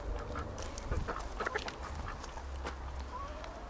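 Ducks quack close by in a garden setting, several short overlapping calls scattered across the moment over faint outdoor background noise.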